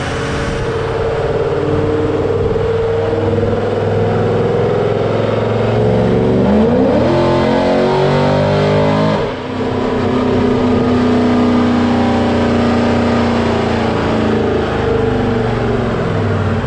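A C6 Corvette with an LS2 V8 roars continuously through a dyno pull, the engine note climbing steadily in pitch as revs rise, very loud and close throughout with no break.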